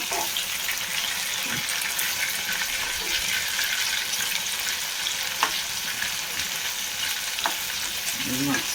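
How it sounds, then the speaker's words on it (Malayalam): Chicken pieces fry in a pan for a dry roast, giving a steady, close hiss of sizzling oil with occasional soft pops and stirring clicks, with no talking. "അപ്പോൾ അത് ഫ്രൈ ആയിട്ട് വരട്ടെ നമുക്ക് മറ്റേ സൈഡിൽ മറിച്ചിട്ട് കൊടുക്കാം"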